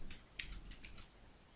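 Typing code on a computer keyboard while printing an IP address in Python, a quiet run of light, irregular key clicks close by with no talking.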